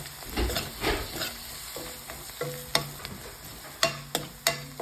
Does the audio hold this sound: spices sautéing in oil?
yes